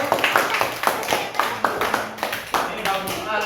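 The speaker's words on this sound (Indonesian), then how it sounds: "kasih tepuk tangan dari kelompok 1" A small group in a classroom claps in a quick, uneven rhythm of close, sharp hand claps, with voices talking faintly underneath.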